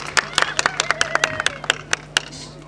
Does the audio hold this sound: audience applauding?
yes